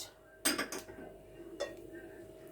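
A spoon clinks and scrapes against a bowl in two short bursts while cookie dough is stirred with grape vinegar, close and fairly quiet, with a near-silent pause between.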